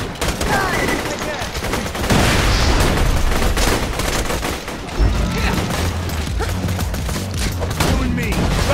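Dense, rapid gunfire fills a Borderlands 2 firefight, with loud overlapping bursts and booms running almost continuously and a voice talking at times.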